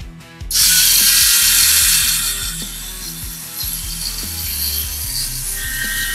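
A Mini 4WD rear gearbox fitted with Tamiya gears spins fast and loud, giving a harsh, rattling mechanical whir that starts abruptly, then evens out into a steady grinding buzz with a periodic ratchet-like clicking.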